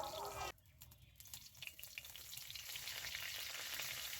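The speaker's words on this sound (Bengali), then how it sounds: "তেলটা গরম হয়ে গেলে তেলের মধ্যে দিয়ে দিচ্ছি গোটা জিরা আর দিয়ে দেবো গোটা গরম মশলা আর দেবো একটা তেজপাতা আর শুকনো লঙ্কা" Whole cumin, garam masala, a bay leaf and dried chili drop into hot oil for a cabbage dish, setting off a sudden, steady crackling sizzle that keeps going, fairly soft and without talk.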